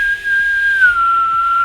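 A man whistles one long sustained note that dips slightly midway and holds steady, clear and close, with no other sound around it.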